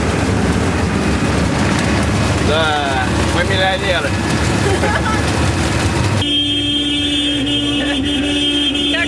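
Loud, steady rumble of a hitchhiked delivery truck loaded with shop goods, heard from inside the back while riding along a road in Turkey; engine and road noise continue throughout, with people talking over it and a droning tone shift partway through.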